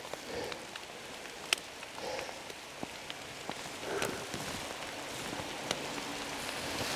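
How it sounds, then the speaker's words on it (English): Steady rain patters on the ground and vegetation on public land during a September elk hunt, a dense continuous hiss with scattered sharper drops close by, no voices. "Good steady rain."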